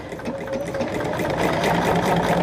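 A sewing machine stitching quilt blocks runs in one steady, continuous mechanical whir, close and fairly loud, with no talking over it.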